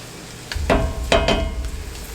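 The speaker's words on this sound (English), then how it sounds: "you're just going to mix this up and cook that flour for about a minute or so" Flour being stirred into a hot pan to cook a roux for Southern-style chicken gravy, giving a few soft scraping and sizzling strokes close by, with no one talking.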